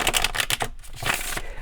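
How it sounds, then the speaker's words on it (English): A Gilded Tarot deck and a Kipper Oracle deck are shuffled by hand in quick, crisp riffling bursts with a brief pause partway through, close and fairly loud. "Let's go ahead and do one more shuffle here."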